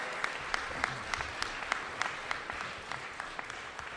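An audience at a public event in Buffalo on the Kensington Expressway project claps for the community, a fairly soft but steady round of applause with individual sharp claps standing out, heard from some distance.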